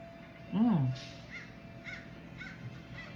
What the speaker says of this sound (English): It's the crow